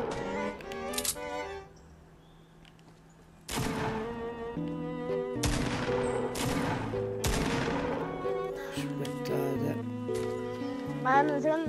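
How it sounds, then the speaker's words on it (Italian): Gunfire in the battle royale video game Fortnite: several sharp bursts of shots crack out over layered game music and effects, moderately loud rather than right up close. "Aspetta che sento spari."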